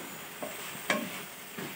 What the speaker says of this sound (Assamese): এনেকৈ ভাজি থাকিব লাগিব অলপ সময়।